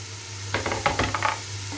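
Carrots sautéing in a pan, a soft cluster of stirring scrapes and light sizzles over a steady low kitchen hum.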